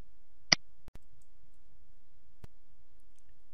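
A single crisp computer mouse click in a quiet room, close and distinct, followed by a couple of fainter ticks.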